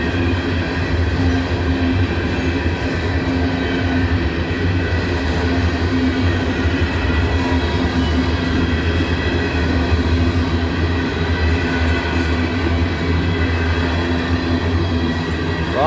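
Empty freight train rolling slowly through a rail yard, a loud, continuous rumble of wagons with rattling and clanking wheels, close by and sustained without speech.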